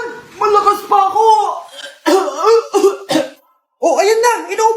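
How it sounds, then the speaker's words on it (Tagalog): A 75-year-old man coughs in a few rough bursts, mixed with chuckling and close voices talking around him. "Ayan na! Inuubo na!"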